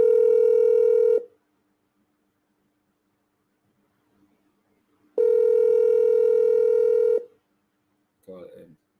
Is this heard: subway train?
no